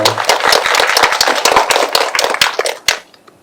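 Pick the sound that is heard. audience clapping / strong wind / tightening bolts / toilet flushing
audience clapping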